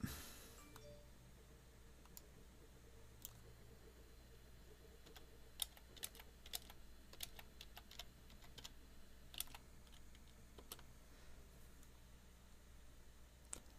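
Someone types at a quiet pace on a computer keyboard, producing faint, irregular clicks and short bursts of keystrokes against a low, quiet background.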